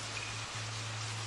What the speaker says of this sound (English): Looks like it's raining today.